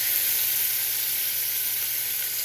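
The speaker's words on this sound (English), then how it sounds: "let me get into frying our prawns or the shrimp" Shrimp frying in oil in a pan for pesto pasta give a steady, close, continuous sizzle and hiss that holds evenly throughout, with no voices.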